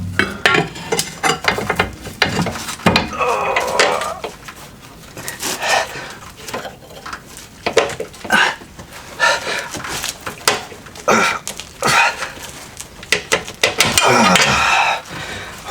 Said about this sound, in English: There's nothing fun about getting the upper track bar bolt out on a WJ